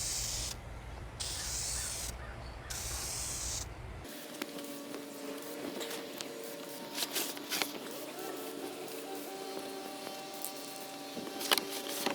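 A spray can applies a coat to a Commodore 64 case in three hissing bursts, followed by quieter clatter and handling sounds.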